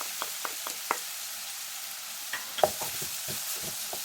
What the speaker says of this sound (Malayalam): ഇനി ആ വെളിച്ചെണ്ണയിലേക്ക് 2 വലിയ ഉള്ളി ചെറുതായി അരിഞ്ഞത് ചേർത്ത് കൊടുക്കാം.